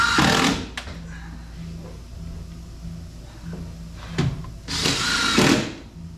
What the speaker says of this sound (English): you can screw them underneath to the cradle in place, like so.